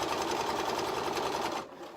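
Sewing machine running steadily while stitching fabric with piping, a continuous close whirring buzz at a lengthened stitch setting that stops abruptly near the end.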